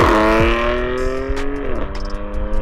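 A 2016 BMW F80 M3 engine revs loud and close, its harmonic drone climbing and then dropping sharply near the end, with some brief tire and road noise.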